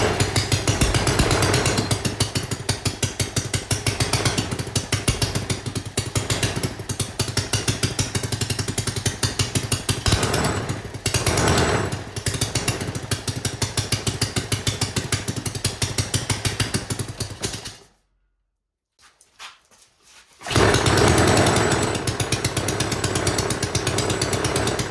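A homemade gas engine fitted with a titanium connecting rod runs in a shop with a loud, rapid, hammering pulse. It cuts out for a couple of seconds near the end, then fires back up at full volume.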